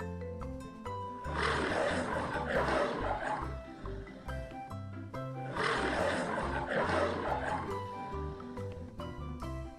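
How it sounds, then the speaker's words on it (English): Two long, deep lion roars swell and fade one after the other, loud and rumbling, with low grunting between them and no talking. "Lion roars."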